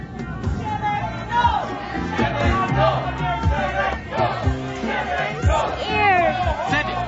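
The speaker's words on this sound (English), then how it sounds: "There is a crowd around the spaceport." A large agitated crowd gathers around a spaceport as an audiobook sound effect: overlapping shouts, yells and babble from many voices, close and continuous, rising and falling in waves.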